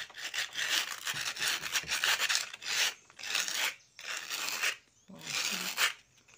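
Fine 180-grit sandpaper rubs over a cement garden gnome in a series of rhythmic, scratchy back-and-forth strokes, each burst separated by brief pauses, close and moderately loud.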